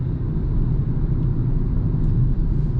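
GWM Ora 03 electric car steering itself through a curve on a city avenue, heard from inside as a steady low road rumble and tire noise with no clear engine note.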